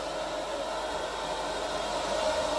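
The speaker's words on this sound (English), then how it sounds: "I can't hear the vacuum at all over the airflow of this vacuum." A Vacmaster shop vacuum runs steadily with a loud, unbroken rush of airflow noise, a dense hiss that stays even throughout with no voices.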